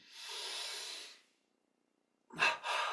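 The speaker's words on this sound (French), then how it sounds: "Ici, on prend une double inspire, on contracte tout." Two breaths during a breathing exercise, a long soft airy breath, a pause of near silence, then a sharp sniffing intake followed by a second airy breath, close and fairly quiet.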